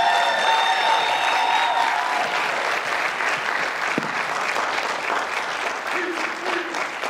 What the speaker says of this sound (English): stay standing and clap for Jill one more time